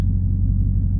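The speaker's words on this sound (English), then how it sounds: "crazy sound of the exhaust" Deep, steady exhaust rumble from a Dodge Hellcat Widebody, a low continuous drone heard up close without any voices.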